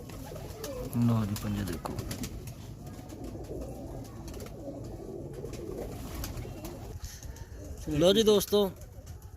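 Faisalabad pigeons coo softly in the background while someone talks nearby, their low calls running steadily under his voice.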